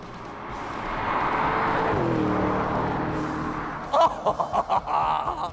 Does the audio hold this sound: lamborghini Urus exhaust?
yes